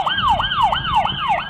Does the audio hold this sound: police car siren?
yes